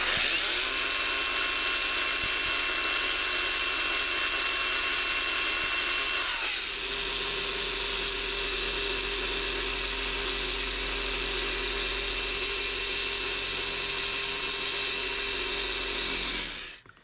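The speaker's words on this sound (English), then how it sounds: "It's not any louder than any polisher out there." A Kobalt cordless random orbital polisher runs with a loud, steady whine that shifts to a lower, deeper hum partway through, then winds down at the end, with no voices.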